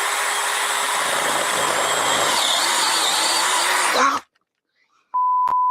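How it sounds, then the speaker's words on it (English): A power drill drilling into soft wood whirs loudly and steadily for several seconds, then cuts off abruptly into silence before a brief tone and another burst of noise. "it seems it works fine if I try to drill soft stuff with it"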